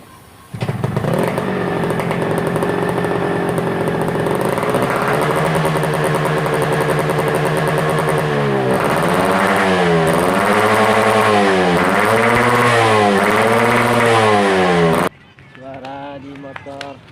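A Yamaha RX-King two-stroke motorcycle fitted with a trumpet exhaust idles loudly up close, then blips its throttle in a series of rising-and-falling revs before cutting off abruptly, leaving a quieter tail.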